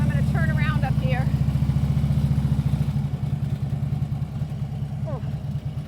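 A motorcycle engine idles and chugs steadily at low speed while the rider turns around on a narrow residential street, with a brief rise and fall in pitch and faint background noise.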